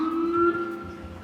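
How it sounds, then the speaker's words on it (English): A police car siren sounds briefly in the distance, a steady tone that holds and then fades as the vehicle passes, heard alone indoors. "let the police car pass by first"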